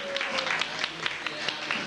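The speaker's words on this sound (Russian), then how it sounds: "Ваши аплодисменты!" Wedding guests applaud in a dense patter of many hands, moderately loud and slightly distant, with voices mixed in beneath the clapping.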